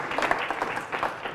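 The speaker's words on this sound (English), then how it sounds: "We can give her a round of applause." An audience applauds at an atrium opening ceremony, a short burst of moderately loud clapping from a modest crowd that fades slightly toward the end.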